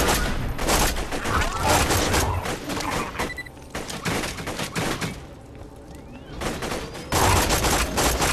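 Submachine gun bursts in Borderlands 2 crackle loudly in rapid volleys, broken by short pauses mid-sequence before heavy firing resumes near the end.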